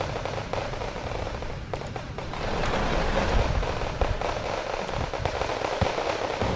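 Grenade launcher rounds and explosions in the real-time strategy video game Wargame Red Dragon during a 10 versus 10 battle, a dense crackling barrage of battle noise with sharp pops and bursts throughout.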